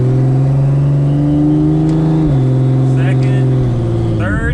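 A drag racing car accelerates hard through first, second and third gears, its loud steady engine drone stepping in pitch at each shift, close and continuous with a brief break near the end.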